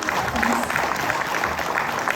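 An audience at a Tamil New Year community event claps for the sponsors, a busy crowd of hands with light murmuring voices mixed in.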